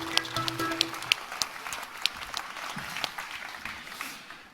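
An audience at a Bordeaux event applauding speaker Arnaud Peyroles, a fairly quiet, scattered patter of clapping with a few sharper individual claps, steady for several seconds before fading.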